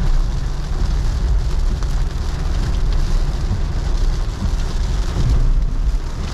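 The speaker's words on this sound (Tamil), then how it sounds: "திடீர்னு பார்த்தீங்கன்னா சரியான மழை." Heavy rain drums steadily on a Honda City car during a long road trip from Chennai toward Madurai and Kerala, a dense, continuous wash of noise close around the cabin with no talking.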